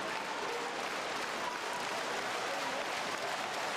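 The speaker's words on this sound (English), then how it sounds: "Germany are clapping their team towards another semi-final" German supporters clapping in the stands at an indoor hockey match, a dense, steady wash of applause heard from a distance without breaks.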